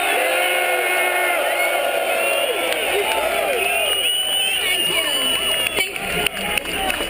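Rally crowd at an Albany gun rally cheering and whooping for a senator taking the stage, with loud sustained yells, whistles and shouts filling the space, some sharp bursts near the end.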